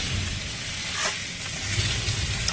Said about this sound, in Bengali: পেঁয়াজ দেওয়ার পর সবজিগুলো সব ভেজে নিচ্ছি পেঁয়াজের সাথে।